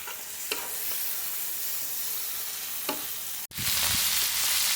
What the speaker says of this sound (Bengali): দেখুন মাছ ভাজাটা আমার একদম রেডি হয়ে গেছে